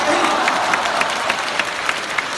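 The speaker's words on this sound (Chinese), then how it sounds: "可以鼓掌啦" Audience applause at a crosstalk comedy show in Nanjing, a short burst of dense, lively clapping from a crowd, close and loud throughout.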